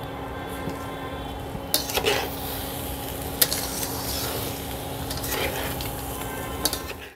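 Ingredients fry in a pan with salt, a steady sizzle broken by metal spoon scrapes and clinks against the pan as the food is stirred, close and fairly loud.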